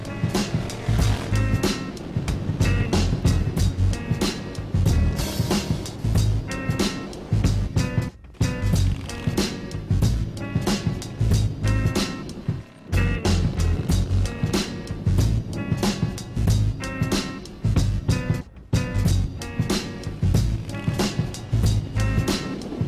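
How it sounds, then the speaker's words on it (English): Jack Pine motorcycle built by Hammarhead Industries, an urban bike, on a test ride, giving a loud, steady engine drone with rushing wind that runs nearly unbroken, dipping briefly twice. "asked me to ride a bike he built called the Jack Pine over my lunch break."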